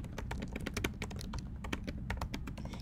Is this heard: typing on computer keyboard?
yes